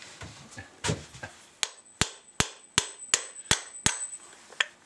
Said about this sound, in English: Let's use my toy hammer